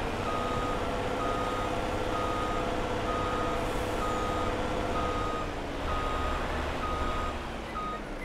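A truck in the video game Farming Simulator 22 sounds steady, evenly spaced reversing beeps over a constant engine drone, with no one speaking.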